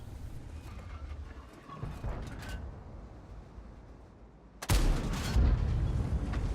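A tank gun firing a high-explosive shell in a video game, a sudden loud boom cutting in near the end after quieter background rumble and faint clatter.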